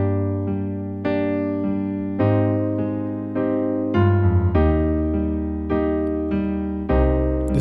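A piano plays a slow melody from a song in clear, ringing notes and chords, each decaying before the next, close and moderately loud with no talking.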